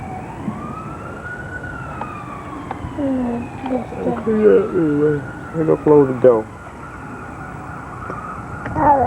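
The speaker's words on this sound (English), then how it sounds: "That ambulance coming over there." An ambulance siren wails and sweeps up and down at middle distance, growing louder as it nears, while people talk nearby and speech overlaps the siren partway through.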